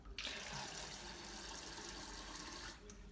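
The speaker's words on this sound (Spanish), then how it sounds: "Necesitamos un poco de agua más." Water is poured or scooped steadily during a ritual washing, making a continuous broadband rushing and splashing that lasts about three seconds and stops abruptly, close and loud.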